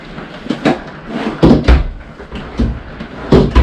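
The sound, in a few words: kitchen drawers opening and closing in a fifth wheel trailer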